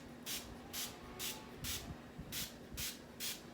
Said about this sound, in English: So what you do is just kind of spray